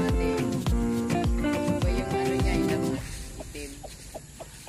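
Mother hens with young chicks on a farm give a run of close, repeated clucks, loud and rhythmic at first, then softer and sparser clucking trails off.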